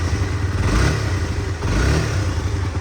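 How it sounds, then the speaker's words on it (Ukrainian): A 2022 Suzuki GSX-S/R 125cc motorcycle engine runs close by with a steady, throaty rumble and a slight rise in revs partway through, no voices. "чистий приємний звук двигуна"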